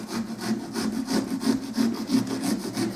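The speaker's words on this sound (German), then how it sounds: "indem ich hier so ein bisschen schräg außen rum säge" A pumpkin carving set saw cuts at an angle around the inside of a pumpkin, giving a close, rhythmic rasping stroke about three times a second.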